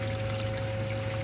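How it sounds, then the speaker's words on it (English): A small bilge pump pushes water out of a Hobie Pro Angler 14 kayak as a steady, continuous rush of water over a low electric hum, close by and with no one speaking. "it's pumping out the water"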